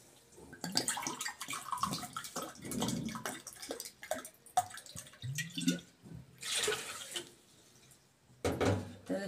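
Water poured into a pot while making syrup for a revani semolina cake, a close, continuous splashing pour with brief pauses.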